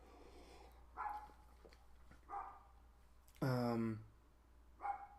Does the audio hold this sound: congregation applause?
no